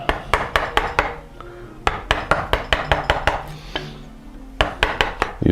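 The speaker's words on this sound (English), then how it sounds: "so now I'm chopping out the waste." Sharp, repeated chisel strikes chopping waste wood along a sawn kerf while shaping a gooseneck molding for a Chapin high chest, irregular bursts of close, loud knocks with brief pauses.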